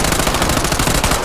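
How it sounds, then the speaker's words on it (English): Rapid, loud SMG fire in Warzone, a continuous burst of closely spaced shots lasting just over a second, dense and close with no talk. "I've seen a couple people tap firing these SMGs"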